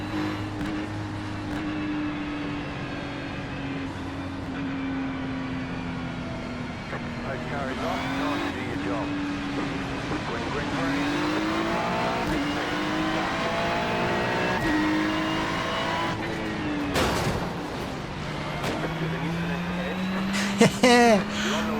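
Ferrari Challenge race cars roar through a chaotic race start at Interlagos in the iRacing simulator. The close engine note climbs and drops through repeated upshifts and revs, with other cars jostling nearby, loud and continuous throughout.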